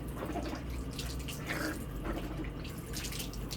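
Tap water runs steadily into a sink for rinsing the mouth after a home fluoride treatment, a continuous close hiss and splash with no talking.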